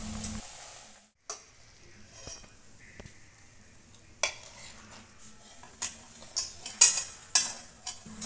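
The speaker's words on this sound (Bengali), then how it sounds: "আমি আবার একটা ভেজে নিচ্ছি।" Stuffed papad frying in hot oil gives a quiet, close sizzle, broken by soft clinks and scrapes of a utensil toward the end.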